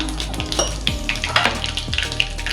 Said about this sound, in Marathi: आता आपण तेल गरम झाले. जिरे टाकू, मोहरी, मेथी डाळ,